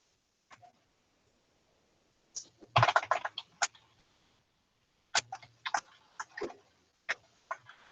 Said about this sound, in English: let me type in an equation where that might happen